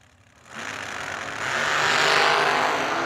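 Two 440-class drag racing cars idle at the starting line, one single-carb naturally aspirated and one dual-carb supercharged, a steady rumbling engine drone that swells louder partway through, heard from a distance without talk.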